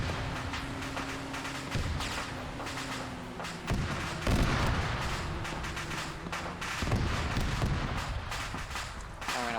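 Battlefield combat in the military video game Arma 3, with dense, continuous gunfire and artillery fire punctuated by repeated heavy booms of explosions over about ten seconds.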